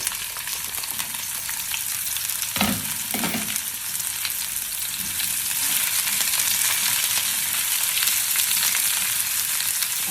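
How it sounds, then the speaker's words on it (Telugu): About 50 grams of thinly sliced onions frying in a pan, a steady close sizzle with occasional stirring scrapes, no talking. "ఇది ఒక 50 గ్రామ్స్ ఆనియన్ సన్నగా కట్ చేసుకొని వీటిని ఫ్రై చేసుకుందాం."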